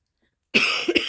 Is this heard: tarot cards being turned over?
no